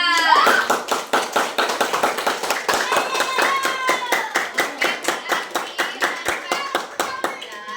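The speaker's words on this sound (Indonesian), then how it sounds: "kita beri aplaus dulu untuk kelompok 1 dan kelompok 3" Classroom applause for student groups one and three at an Indonesian Islamic primary school, a steady burst of many hands clapping close by for several seconds, fading slightly toward the end.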